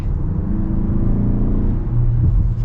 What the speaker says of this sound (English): we'll get our acceleration here with the turbo and see how it moves